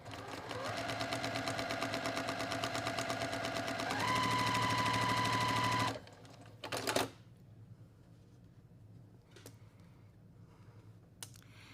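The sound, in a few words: sewing machine stitching along a marked line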